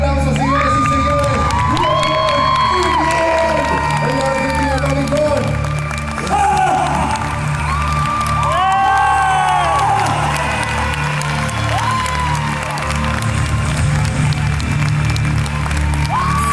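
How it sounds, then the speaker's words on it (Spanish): A loud crowd at a live event with Robert Englund in Argentina claps, cheers and whoops continuously, children's shouts and excited voices rising over the applause throughout. "Fuertísimo el aplauso, señores y señores."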